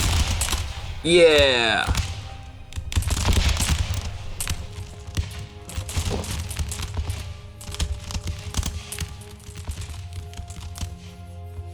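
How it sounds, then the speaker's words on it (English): Musket volleys in the video game Empire: Total War. A dense, crackling spread of gunfire keeps popping throughout the clip beneath battle noise. A voice cheers briefly near the start over a rising synth-like tone. "I want to see a nice volley, maybe?"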